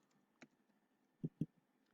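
A few soft, isolated computer keyboard key clicks, one light tap followed by two firmer presses in quick succession, close and quiet in an otherwise silent room.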